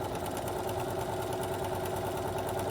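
A sewing machine with a walking foot runs a continuous seam on a Halloween tote bag, giving a steady, fast mechanical whir and rapid needle chatter at close range, with no talking.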